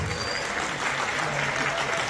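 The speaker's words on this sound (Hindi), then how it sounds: "अभी स्क्रीन पर देखकर बहुत जोर से तालियां बजा रहे हैं।" An audience at an outreach camp where scooters are given to people with disabilities claps loudly and continuously, a dense unbroken wash of applause throughout.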